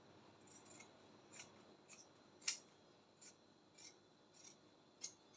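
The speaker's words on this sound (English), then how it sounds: "So by trimming off, I form the cup encasement right now." Scissors trimming fabric to shape a corset cup, a series of faint, quiet snips spaced about a second apart, close by, with one sharper cut midway and no talking.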